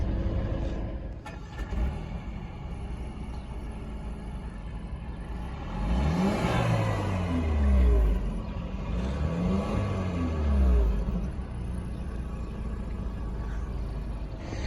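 A 2017 Mercedes-Benz CLA250 4Matic engine runs steadily at close range, then revs up twice in rising sweeps before settling back to a smooth idle.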